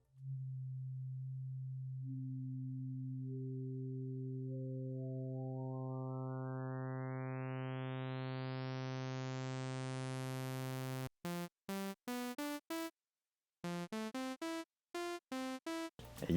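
A digital synth waveform run through a high-pass filter holds a steady buzzy tone whose harmonics gradually build upward, then breaks into a series of short choppy bursts with gaps, quiet and alone.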